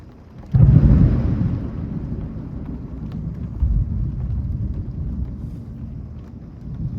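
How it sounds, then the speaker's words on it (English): Deep thunder from a Houston thunderstorm breaks in with a loud crack and then rolls on in a long low rumble, with a second swell partway through and wind and rain noise beneath. "Angry deity thunder and lightning."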